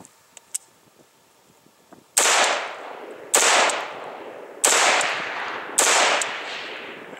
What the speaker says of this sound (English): we'll keep sending the rounds down range